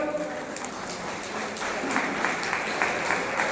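A crowd claps in honour of soldiers at a Har Ghar Tiranga bike rally, a steady, moderately distant patter of applause that swells slightly toward the end, with voices faintly mixed in.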